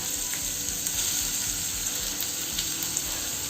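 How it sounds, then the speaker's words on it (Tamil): Two chopped onions fry in hot oil, producing a dense, steady sizzle and crackle at close range, loud and even throughout with no voices. "ஆனியன் நல்லா கோல்டன் ப்ரௌன் ஆகிற அளவுக்கு ஃப்ரை பண்ணிக்கோங்க"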